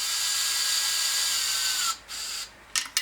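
A power drill drives a tap, cutting fresh threads into an oil-line fitting on an LS V8 engine for a turbocharged Miata kart. A steady close whine runs for about two seconds, then breaks into short bursts and stops.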